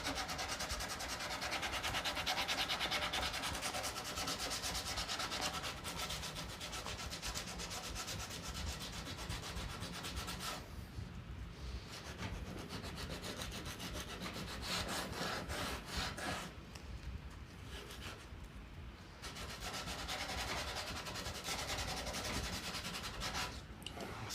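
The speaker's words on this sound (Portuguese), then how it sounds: "Ir acertando com a lixa, dando acabamento, moldando, que nós estamos na verdade moldando isso aqui agora." A round wooden piece sanded by hand with sandpaper to shape and finish it in a workshop: continuous rapid back-and-forth rasping strokes, close and steady for the whole stretch, with brief lighter pauses midway and no talk.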